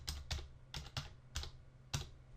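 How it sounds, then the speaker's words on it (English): Computer keyboard typing in short, irregular bursts of key clicks, close and clear with no talking over it. "I can click in there and type in"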